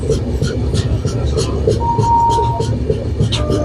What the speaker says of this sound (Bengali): 2 নম্বর প্ল্যাটফর্মে ট্রেন এসে পৌঁছেছে।